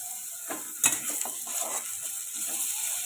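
Ginger-garlic paste hits hot oil in a pan where vegetables and salted hilsa fish are being cooked, giving a steady close sizzle with a few stirring scrapes and one sharp clink of a utensil early on.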